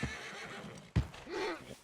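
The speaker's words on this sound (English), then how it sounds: "Marston, you're gonna tether him up to Javier's horse." A horse in the video game Red Dead Redemption 2 gives a short whinny and snort close by, with faint hoof clops underneath, all in under two seconds.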